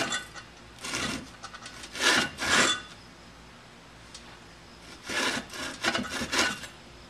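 Wood is cut by hand to shape the fades near the riser of a handmade archery bow, heard as close, rough rasping strokes in two bursts of several quick back-and-forth passes separated by a pause.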